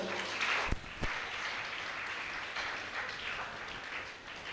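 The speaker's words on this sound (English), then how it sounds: "A round of applause for yourself." Audience applause fills a leadership summit hall, a steady wash of many hands clapping throughout with a couple of sharper individual claps near the start.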